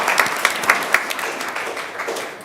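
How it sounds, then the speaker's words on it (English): At a school board of education meeting, the audience gives a short round of applause for a tennis player, with a few sharp distinct claps up front blending into a brief steady patter. "we'll clap for him"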